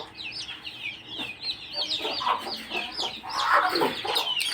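Several domestic country chickens cluck and squawk busily nearby, overlapping calls in a steady chatter with a louder burst near the end; no one speaks.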